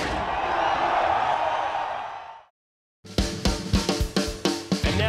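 A massive crowd roars at Red CentreNATS in Alice Springs, a loud, dense wall of cheering that fades out, cuts to silence, and then gives way to punchy rhythmic music hits.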